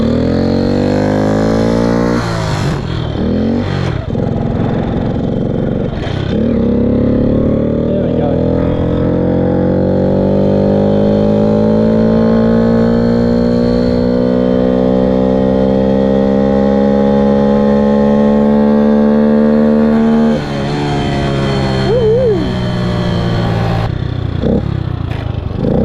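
A 1966 Honda C100 Super Cub with sticky clutch plates is push-started and ridden off, its small engine buzzing loudly and close as it climbs steadily through the revs, with short breaks at gear changes.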